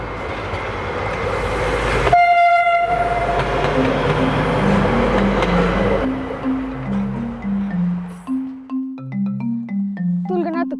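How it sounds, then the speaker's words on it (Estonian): A train roars past at full speed, a loud rushing rumble with a brief horn blast, fading as voices speak nearby toward the end. "See rong siin peatus ei peatu, mis tähendab seda, et ta kimab siit täiskiirusel läbi"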